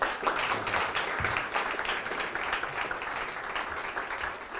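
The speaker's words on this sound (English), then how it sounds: "Round of applause." A steady round of applause from an audience rises right away and holds at an even level, dense and continuous with no voices standing out above it.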